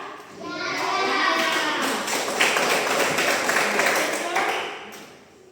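A roomful of children and adults clap their hands together in a classroom or hall, a dense, sustained burst of clapping that swells and fades over several seconds, with some voices mixed in.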